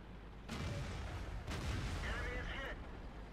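Tank cannon shots in World of Tanks, three sharp booming blasts about a second apart with rumbling low end and a crackling tail, loud and close, with no voices.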